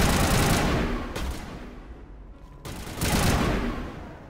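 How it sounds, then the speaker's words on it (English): Video game gunfire in Mass Effect Legendary Edition comes as loud bursts of rapid shots, a dense volley at the start, a quieter pause, then another heavy burst. "Who's shooting at me? Why are you shooting at me?"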